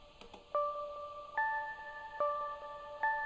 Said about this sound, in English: This is a sine wave with a lot of delay and reverb in massive.